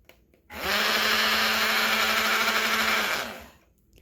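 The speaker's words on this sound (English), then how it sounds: "Not quite as loud as a full-size blender" A Cuisinart cordless compact blender starts abruptly, runs with a loud high-pitched whir for about two and a half seconds, then winds down and stops.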